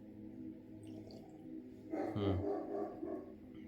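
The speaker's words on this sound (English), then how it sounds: "There's my dog barking." A dog barks a few times nearby around the middle, short sharp yelps over a steady low hum of background noise.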